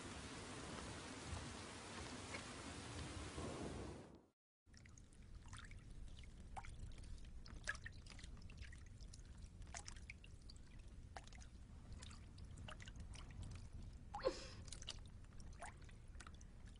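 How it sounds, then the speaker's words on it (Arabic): Heavy rain pours down steadily, a dense wash of hiss and patter with scattered drips. A brief cut to silence interrupts it near the start. "ماذا حدث حتى أمطرت السماء بهذا الشكل"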